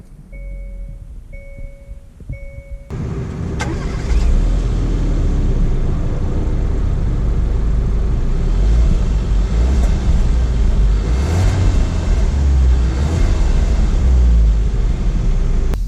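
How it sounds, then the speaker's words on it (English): A 2019 Hyundai Kona Ironman Edition compact SUV's engine starts after a few electronic chimes, then a steady road rumble builds as it pulls away and keeps driving, fairly loud throughout. "let's take the 2019 Kona out for a quick drive just to see how this new Kona handles"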